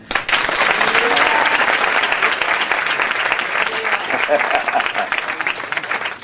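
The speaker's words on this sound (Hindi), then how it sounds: "हाँ, ताली बजाओ।" A church congregation breaks into loud, sustained applause during a fiery sermon, a thick, continuous roar of many clapping hands lasting several seconds with faint voices mixed in.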